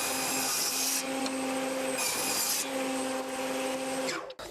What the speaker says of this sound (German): das werden wir uns jetzt einfach mal passend zwei Stück zusägen